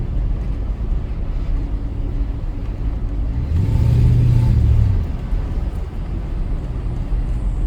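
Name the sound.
1991 Jaguar XJS accelerating, engine note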